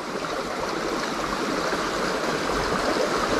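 A fast-flowing river current rushes continuously nearby, a dense, even broadband roar of moving water with no voices.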